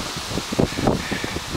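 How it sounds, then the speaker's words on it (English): Wind gusting outdoors near a small cabin shed, a brief stretch of broadband rushing and buffeting on the microphone with soft rustling swells and no voices. "The wind's kind of going right now"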